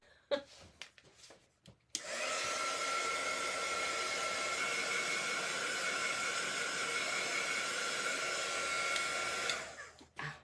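A hair dryer switches on after a few soft handling knocks and blows paint dry on an artwork with a steady, close whoosh for about eight seconds before cutting off.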